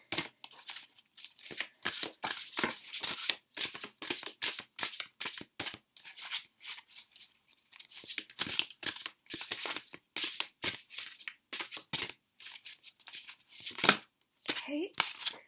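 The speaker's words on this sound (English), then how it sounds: "Got these giant tarot cards, so bear with me whilst I shuffle these." Rapid riffling and flapping of giant tarot cards being shuffled, crisp bursts repeating over and over, close up with occasional soft voice sounds in between.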